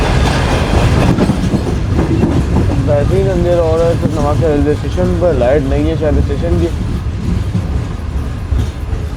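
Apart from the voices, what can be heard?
Shalimar Express train approaching Nawabshah railway station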